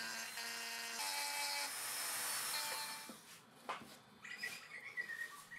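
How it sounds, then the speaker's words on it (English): A handheld Dremel rotary tool etches a logo into a hand-forged Viking axe head, a high whine with shifting tones for about three seconds, then scraping, brushing handling noises nearby. "So I'm going to do it by hand with a Dremel tool."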